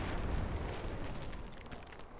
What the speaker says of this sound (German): Ich könnte die ganze Folge nur zuschauen, wie alles explodiert.